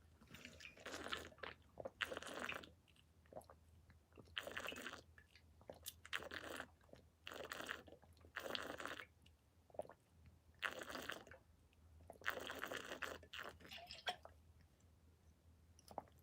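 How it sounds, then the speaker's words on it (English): Someone drinks water close to the microphone, with repeated gulping and mouth sounds coming in short bursts between pauses during a quiet indoor livestream. "let me drink water"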